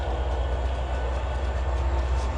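A train in the Trainz 2022 railroad simulator backs up along the track, a steady rumbling rolling noise with a faint hiss that is loud and continuous throughout, with no talk over it.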